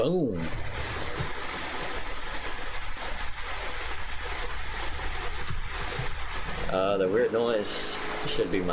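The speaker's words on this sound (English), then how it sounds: "Should be my fan." Electric fan running close to the microphone, a constant broadband whoosh like running water that persists under game sounds and brief speech, droning evenly across the whole stretch.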